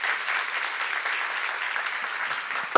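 Steady applause from a seated audience at a church seminar, an even wash of many hands clapping at moderate loudness with no voices, ending with a brief louder bump.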